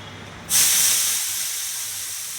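Water splashed onto a hot, oiled griddle for neer dosa bursts into a sudden loud hiss that then settles into a steady, slowly fading sizzle, close up with no talking.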